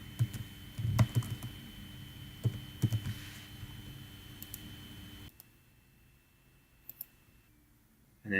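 A computer mouse clicks several times while someone navigates a software interface on a desktop, with sharp, close, sparse clicks over a faint background hum, followed by a quieter stretch with a couple more clicks.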